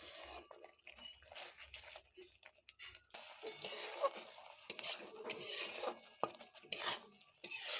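A spoon stirs ridge gourd curry with urad dal in a pan, making soft scraping and clinking with faint sizzling. The sounds are quiet and irregular, becoming busier and a little louder in the second half.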